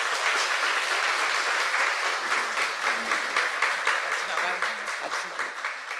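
An in-studio talk-show audience gives a steady round of applause, with individual claps audible in a dense but moderate patter that fades a little toward the end, and talk faintly mixed underneath.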